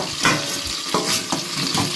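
Steady frying sizzle of okra in a covered pan with a few soft stirring scrapes, close and continuous, no voices.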